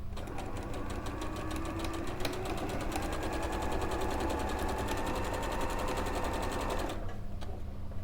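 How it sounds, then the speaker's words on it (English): A sewing machine runs steadily stitching quilt strips at a quarter-inch seam, a fast even mechanical whir close by that stops abruptly near the end. "So you're quilting, so you want 1/4 inch, and then we'll just sew down that one."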